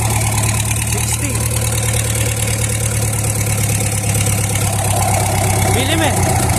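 Mitsubishi 4D30 diesel engine idling steadily with a PTO-equipped 4D32 transmission, a constant close low rumble under bits of conversation and background noise.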